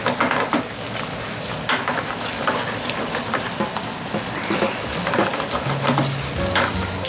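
Beef and broccoli stir-fried in oyster sauce sizzle loudly and steadily in a hot pan, with repeated scraping stirs and clinks of the utensil throughout, no voices.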